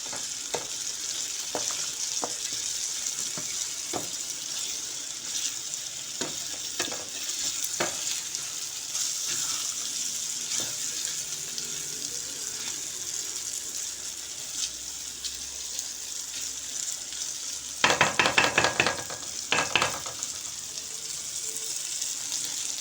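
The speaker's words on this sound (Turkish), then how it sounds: "Güzelce pirincimizi kavuracağız." Rice sizzles and crackles steadily as it is toasted in a hot pan for lamb kapama, with occasional scraping and stirring clicks and a brief louder clatter near the end.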